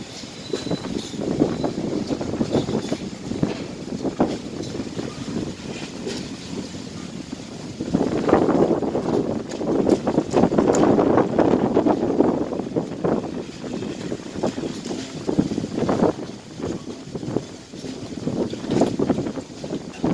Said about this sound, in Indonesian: Yang angin terus ya